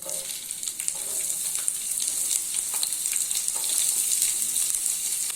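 Curry leaves and chopped onions hit hot oil for an Indian egg katli dish, making a loud, continuous, hissing sizzle with faint stirring scrapes underneath throughout.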